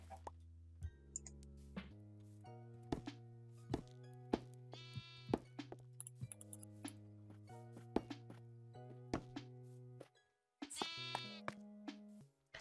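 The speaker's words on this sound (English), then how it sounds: "Hello, sheep." Blocky video-game sheep bleat repeatedly in a Minecraft-style world, with short wavering cries scattered over a low sustained tone and clicking taps, plus a brief louder burst near the end.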